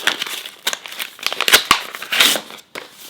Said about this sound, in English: let's see what's in this Neiman Marcus envelope.